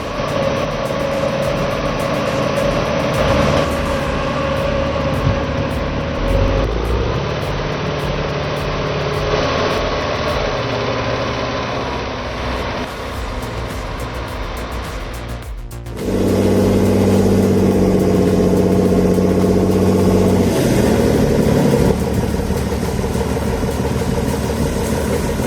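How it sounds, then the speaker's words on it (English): A forest tractor engine hauling 12-foot frozen logs, a steady heavy mechanical drone that shifts to a louder, deeper load midway, continuous and close. "This forest tractor hauls 12-foot frozen logs and laughs in the face of traction."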